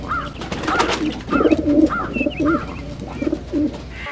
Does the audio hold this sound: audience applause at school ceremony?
no